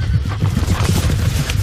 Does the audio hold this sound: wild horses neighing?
yes